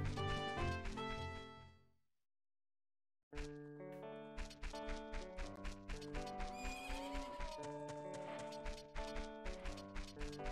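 In The Legend of Zelda: Ocarina of Time, a horse whinnies loudly over bright game music, then after a brief silence rhythmic clip-clopping hooves beat steadily alongside the melody.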